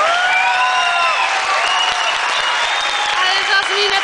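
Sustained applause with cheering from a crowd at an anime convention tribute, loud and continuous, with whoops and voices rising over the clapping throughout.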